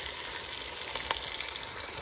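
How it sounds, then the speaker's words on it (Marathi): Vajari masala, a goat tripe curry, is added to hot oil for tempering over a village wood-fired stove, producing a steady, soft, even sizzle with a faint crackle or two and no speech. "आणि फोडणीला टाकलं."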